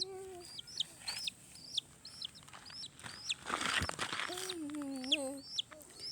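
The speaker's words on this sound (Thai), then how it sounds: "ไก่สีกำลังหาอาหารกิน" Several backyard chickens cluck and chirp while foraging for food, with repeated short high peeps and a few longer rising calls up close, accompanied by light rustling and scratching noise.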